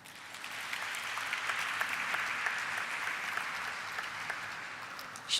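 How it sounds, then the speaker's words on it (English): Steady applause from a crowd at a stock listing ceremony fills the space for several seconds, even and sustained, with no voices over it. "We can clap for them."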